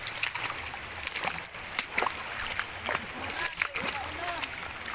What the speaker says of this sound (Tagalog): ligo muna tayo dito sa malaking ilog dito sa may Hinunangan, Southern Leyte